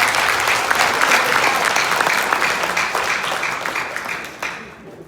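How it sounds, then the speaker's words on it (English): A Christian church audience gives a round of applause, a loud, dense wash of clapping from many hands that carries on for several seconds before tapering off. "Will you join me again in giving May a round of applause for tomorrow?"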